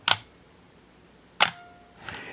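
A Minolta XG-M 35mm film SLR fires at a one-second shutter speed: a sharp mirror-and-shutter clack opens it, a second clack closes it just over a second later, and a fainter mechanical click follows, all close and without talk.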